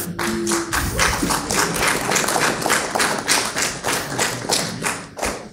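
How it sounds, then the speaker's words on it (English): Steady, light applause from a panel audience, a dense patter of many hands clapping politely at an even level for several seconds with no talk. "Golf claps all around, okay."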